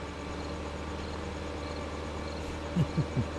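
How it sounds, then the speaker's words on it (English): Tractor mower engine in Farming Simulator 15, a steady low droning hum with a faint buzzing layer, plus three short low thumps near the end. "Be good to start the mower"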